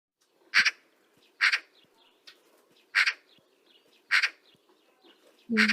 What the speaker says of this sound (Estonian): Siin on siis kuulda, mis häält need linnud päriselt Eestis meil teevad.